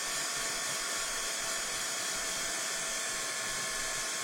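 A heat tool runs steadily at close range, a continuous broadband whir with airy hiss as it dries paint on an MDF craft piece; no talking.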